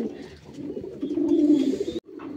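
Pigeons cooing at a pigeon farm in Kuakata, a soft, continuous layered murmur of low coos from several birds close by, swelling in the middle and briefly cutting out before resuming.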